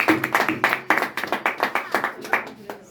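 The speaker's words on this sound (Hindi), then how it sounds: "एक बार ताली बजाओ।" Audience clapping at a business seminar, heard as a brief burst of sharp, fairly close claps in a quick rhythm, some in unison, lasting a few seconds.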